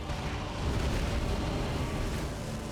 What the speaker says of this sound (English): Ah, big explosion.